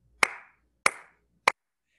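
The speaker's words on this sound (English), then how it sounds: "I like to put um, my fingers of one hand into the palm of my other hand to create this sound" Three sharp, clean claps made by striking the fingers of one hand into the cupped palm of the other, a band director's cue, each crack short and close with a brief ring, spaced evenly then quicker, no talking.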